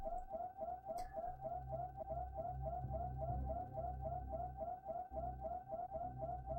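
A steady electronic low-health warning tone in Super Metroid pulses rapidly and continuously, a repeating high beep over a low background hum, with no talking.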